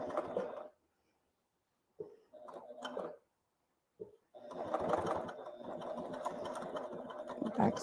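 An HD9 sewing machine stitches leather in close, clattering runs: a short burst, a pause, a brief start-stop, then a sustained steady stretch of rapid stitching.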